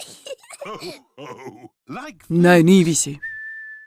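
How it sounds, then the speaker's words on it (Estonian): An animated cartoon character in the Estonian dub of Peppa Pig whistles a short, steady, clear note that follows several moments of voices talking. "Vilistada on vahva."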